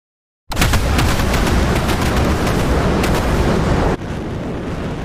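In a video game, B-1B Lancer bombs explode against an Imperial Star Destroyer in a dense, continuous barrage of blasts that starts abruptly, rages loud and unbroken, then eases slightly toward the end.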